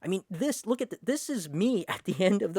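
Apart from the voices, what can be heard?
No everyday noise stands out behind the speech.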